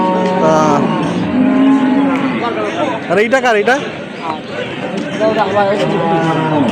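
At a busy cattle market in Ambari, Dinajpur, where pregnant dairy cows are sold, a cow gives a wavering moo in the middle, partly buried under nearby men's conversation and crowd chatter.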